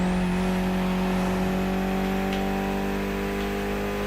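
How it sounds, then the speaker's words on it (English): Mitsubishi inline four-cylinder engine of about 280 horsepower in The Crew Motorfest racing game, a steady, loud droning hum with sustained tonal layers that holds evenly throughout, with no talking. "Mitsubishi gave us a nice inline four-cylinder with already 280 horsepower."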